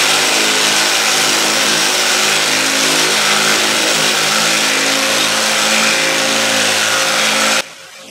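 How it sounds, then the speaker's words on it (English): A small electric sander works over a wooden sign with a loud, steady buzzing whir that holds evenly, then cuts off just before the end. "I'm just going to use my little sander right quick and go over it a few"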